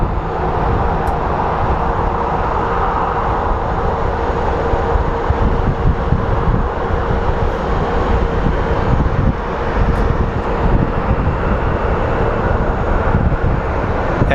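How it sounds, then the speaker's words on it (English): A Southwest airliner taxis at Phoenix Sky Harbor International Airport, a steady broad engine roar with wind noise, heard from outdoors at a distance, unbroken throughout. "the Southwest is taxiing for its flight to San Diego"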